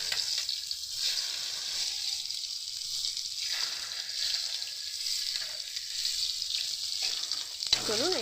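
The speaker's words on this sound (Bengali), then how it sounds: "ভালো করে কিন্তু মাছগুলো হালকা পরিমাণ ভেজে নিয়েছি" Pieces of hilsa fish fry in hot oil for a mustard hilsa dish, giving a steady close sizzle that swells and eases slightly without speech.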